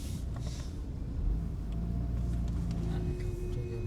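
A car edges into a parking spot amid crowded rain-season traffic in Lonavala, a low continuous engine rumble with other vehicles idling and moving nearby, fairly quiet and steady.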